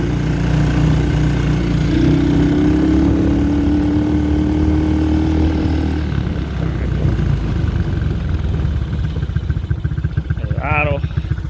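A Chinese four-wheeler ATV engine idles steadily up close with a loud, buzzing putter, and someone talks briefly over the running motor.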